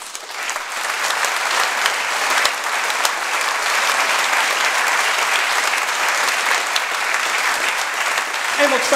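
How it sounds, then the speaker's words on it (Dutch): Audience applause after a Socrates lecture by Hedy d'Ancona, a dense steady wash of many hands clapping that holds evenly for the full stretch, loud and continuous with no voices rising above it. "Dus nogmaals een hartelijk applaus voor haar."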